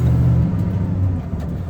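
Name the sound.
1974 Buick Century Luxus shifting into drive and driving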